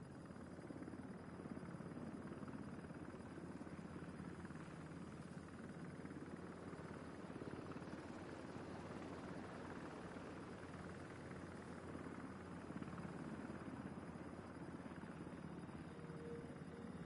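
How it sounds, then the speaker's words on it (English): A helicopter returning to base in the video game The Division 2 drones as a steady, low, distant rotor rumble that holds evenly throughout without voices. "Helo is returning to base."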